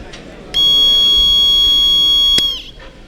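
Quiz buzzer at a school science quiz semifinal sounds once in a loud, steady electronic tone for about two seconds before fading, over a faint murmur of the room.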